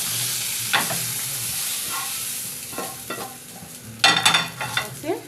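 Vegetables for khichuri fry in a pan with a constant close sizzle, punctuated by sharp scraping stirs that cluster into a busier burst near the end.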